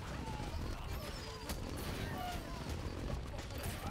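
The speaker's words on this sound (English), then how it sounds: "Stop shooting fireworks at me" Dense crackling bursts of fireworks fired at the player in the Shaq Fu: A Legend Reborn video game, a continuous loud barrage of pops and bangs over game noise.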